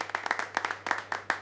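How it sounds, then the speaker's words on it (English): A few people clap in a brief, sparse round of applause at a locomotive workshop, sharp individual handclaps in irregular bursts, fairly close, over a low steady hum. "I think they deserve a big round of applause"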